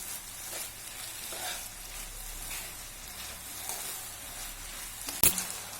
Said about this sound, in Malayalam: ഇനി ചെറുപയറും തേങ്ങയും ശർക്കരയും പനിയും കൂടി നന്നായിട്ടൊന്ന് യോജിപ്പിച്ചെടുക്കണം